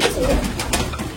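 Pigeons in a pigeon fancier's collection give a deep, throaty coo up close amid a busy background hum.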